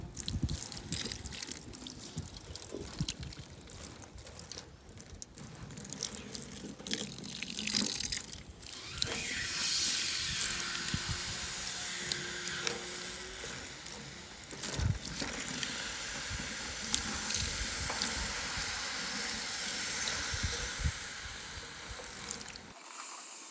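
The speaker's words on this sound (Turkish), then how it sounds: "Kireci söndürürken suyu yavaş yavaş veriyoruz." Water is poured slowly onto quicklime being slaked for Horasan lime mortar, giving a long stretch of trickling, splashing and hissing noise with scattered drips and crackles, close and fairly loud, with no talking.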